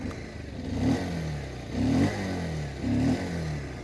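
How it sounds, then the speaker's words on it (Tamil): Bajaj Pulsar 150 motorcycle engine revving in three distinct throttle blips over a steady idle, close and loud, with no one speaking. "இப்போ கொஞ்சம் நம்ம ஆக்சலரேட் பண்ணாலும் முடிஞ்ச அளவுக்கு அந்த சிக்னேச்சராக அந்த பல்சருக்கு இருந்த அந்த ஒரு சவுண்டை வந்து அப்படியே வந்து மெயின்டைன் பண்ண ட்ரை பண்ணியிருக்கிறாங்க."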